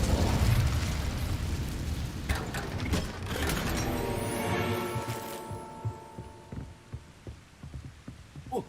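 A fire spell cast in the video game Hogwarts Legacy, a loud whooshing burst of flame that rumbles and fades, followed by quieter mechanical clicks and thuds.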